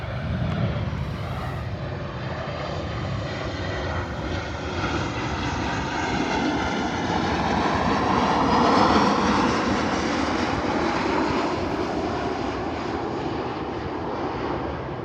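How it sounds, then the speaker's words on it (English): A propeller airplane drones overhead, its engine swelling louder toward the middle and then slowly fading, with no talking. "There's an airplane passing by, actually,"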